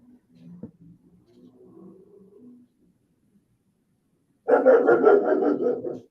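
A dog barks in a rapid, loud burst of several sharp barks near the microphone, following a stretch of quiet, low indoor speech.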